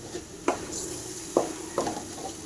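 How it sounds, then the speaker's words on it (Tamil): Bitter gourd leaves fry in a pan while a spatula stirs them, with a soft background sizzle broken by three distinct scraping strokes against the pan. "நல்லா ஃப்ரை பண்ணலாம் நல்லா வதக்கலாம்"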